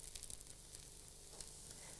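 A very thin, lacy pancake sizzles in a frying pan, a faint continuous crackle with small pops scattered throughout and no talking.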